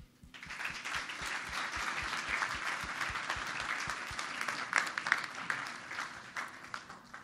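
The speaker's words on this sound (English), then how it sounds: "can we give Nate another big round of applause?" Audience applause for a speaker at a business networking morning event, dense, steady clapping with some sharper claps standing out, a regular low thumping beneath it.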